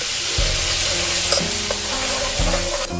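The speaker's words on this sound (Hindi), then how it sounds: "इसे आपने मुसलसल हिलाते रहना है, क्योंकि इसमें नीचे स्टिक होना होता है, इसलिए आपने इसे हिलाते रहना है, इसे फ्राई करना है" Garlic ginger paste sizzles loudly in a pot for chicken and chickpea curry while a spoon stirs it steadily, with occasional scraping thumps against the pot bottom and no voices.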